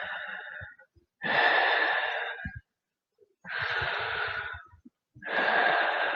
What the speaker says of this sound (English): Take a couple more deep breaths.